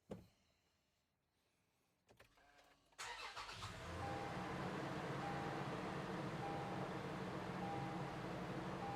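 A 2022 Toyota 4Runner engine cranks briefly and starts just after an oil change, then settles into a steady, loud idle heard close up after a quiet lead-in.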